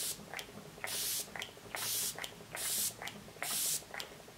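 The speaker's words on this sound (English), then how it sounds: "I'm gonna set it with the Prime and Plus Hydrating 3-in-1 Setting Spray." Prime and Plus Hydrating 3-in-1 setting spray mists a face in four evenly spaced short hissing bursts, each preceded by a faint pump click, close and quiet.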